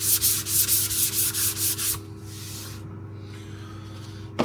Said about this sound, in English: You just see me then sanding this top down